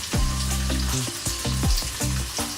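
A leg of lamb browns slowly in a pan on the hob over low heat, giving a steady close sizzle with brief spits and crackles throughout.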